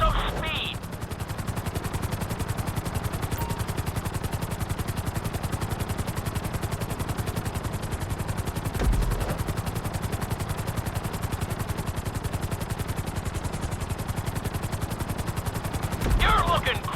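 Helicopter rotor chopping steadily throughout in Grand Theft Auto V, a dense rhythmic thudding that stays loud and even while flying a marked course, with brief bursts of louder noise near the start and end.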